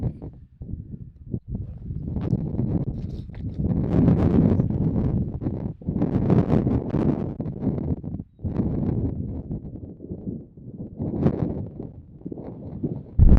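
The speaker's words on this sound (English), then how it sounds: "It's super windy, so I'm gonna have to yell into the microphone right now" Heavy wind at Chimney Rock, Nebraska buffets the microphone in rough, rumbling gusts that rise and fall throughout, with short lulls between the blasts.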